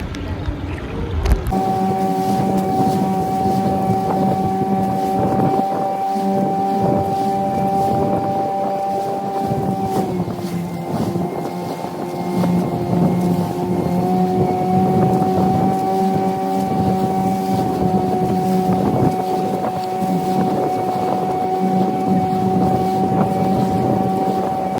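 Motorboat engine drones steadily with strong tonal harmonics as the boat heads out to sea off Lovina, Bali, for dolphin watching, wind buffeting the microphone throughout, a slight pitch shift midway and no talk.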